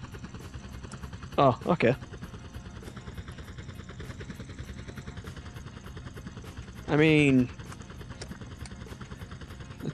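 A helicopter in GTA San Andreas gives a steady, droning rotor and engine hum throughout, with someone speaking briefly over it twice.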